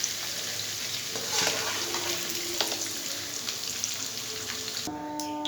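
Soya chunks fry in hot oil with a steady, soft sizzle throughout, and a few faint clinks of stirring are heard. A short tone sounds at the very end.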